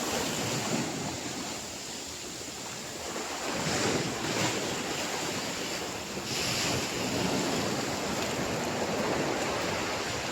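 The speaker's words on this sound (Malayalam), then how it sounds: "കടൽ ചെറുതായിട്ട് കൂടി തുടങ്ങിയിട്ടുണ്ട്." Sea waves wash onto the shore in a continuous roar that swells and eases in slow surges, with heavy wind buffeting the microphone throughout and no voices.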